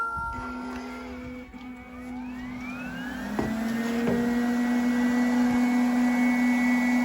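A Coral One 2-in-1 robot vacuum starts up and runs with strong suction, a steady whirring motor tone that rises in pitch over the first seconds and then holds a loud, even whine, with no talking.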